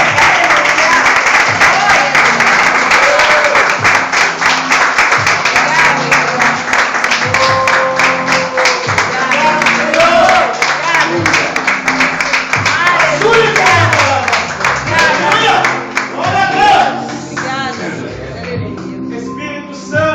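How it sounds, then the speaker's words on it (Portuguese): A congregation at an evangelical church service applauds loudly and continuously, with dense clapping over voices and worship sound that fades in the final seconds. "Uma grande salva de palmas"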